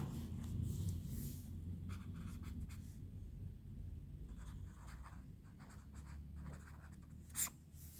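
A pen scratches out a Tamil word by hand on paper, a close, faint, continuous scribbling with short strokes and a soft tap near the end.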